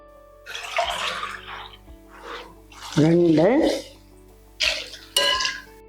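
Water pours into a pot of rice and lentil masala for arisi paruppu sadam in a home kitchen, a splashing, hissing rush in bursts, with someone talking over and between the pours.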